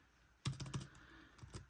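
A short run of quick keystrokes on a computer keyboard, half a dozen close clicks then two more a moment later, fairly near and alone in a quiet room while typing text into Word Art.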